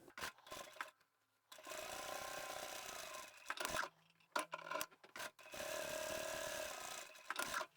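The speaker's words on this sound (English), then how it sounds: "we're going to top stitch just the top edge of the fold on both of them" A sewing machine top stitches along the folded top edges of fabric pockets for a small craft tote, running in two sustained bursts of steady mechanical whirring, close up, separated by short pauses and handling sounds.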